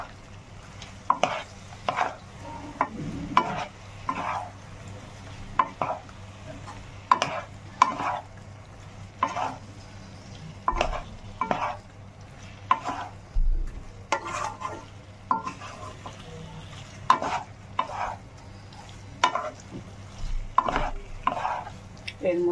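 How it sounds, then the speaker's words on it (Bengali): Soybean chunks, potato and cauliflower stir-fry with spices in a pan, a spatula scraping in a steady rhythm of repeated strokes over a low, continuous sizzle with a faint hum beneath. "দিয়ে এটা একটু কষিয়ে নেব, মশলাটার সাথে কষিয়ে নেব"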